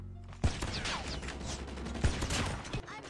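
Gunfire in a video game, with a few sharp, punchy shots spaced apart over a steady background of mechanical clatter and combat noise, close and fairly loud.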